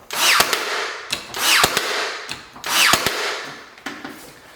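A pneumatic nailer drives nails through a wood block cut just under 4.5 inches into door jamb framing, with three loud sharp shots at an even pace, each trailed by a brief rattle.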